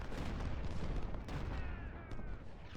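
Dense, continuous massed musket fire rolls steadily through a Civil War battle at Gettysburg in Ultimate General, with overlapping volleys keeping a loud, unbroken roar throughout.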